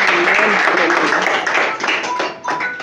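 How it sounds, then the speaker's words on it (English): A church congregation claps in praise after a deliverance prayer, a burst of scattered hand claps tapering off over a few seconds, mixed with voices. "Can we give the Lord a clap of praise?"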